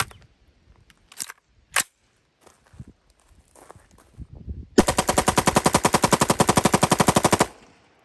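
Suppressed machine gun fire, an MP5, AK47, M16 or MAC10 fitted with a YHM R9 suppressor, shooting at cars. A few scattered quiet shots come first, then one loud sustained burst of rapid, evenly spaced rounds that runs for about three seconds and stops.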